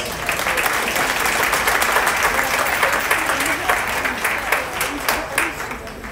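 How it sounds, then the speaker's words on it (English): An audience at a swine stock show applauds steadily for several seconds, dense clapping that stays even throughout. "give these Hawk Showmen a big round of applause."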